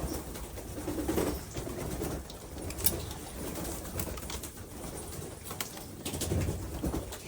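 Racing pigeons in a loft during the molt, soft low cooing recurring in intermittent bursts, faint and close, with occasional rustles and wing flutters and no voices.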